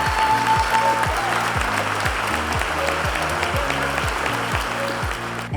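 An audience claps steadily for an award winner at a middle school staff recognition, sustained, fairly close applause, with a rhythmic music bed running underneath.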